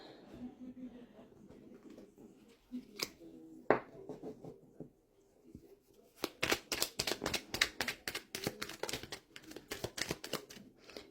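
Oracle cards being shuffled by hand, a quiet stretch of soft handling and isolated taps followed by a rapid, dense flurry of crisp card riffles, close and moderately loud.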